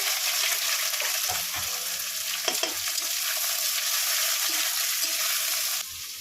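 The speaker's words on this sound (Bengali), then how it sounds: "পেঁয়াজগুলো কুচিয়ে রেখেছিলাম, পেঁয়াজগুলো ভেজে নেব।" Chopped onions fry in hot oil in a pan, with a steady, close sizzle running through the whole stretch and a few soft stirring knocks near the start.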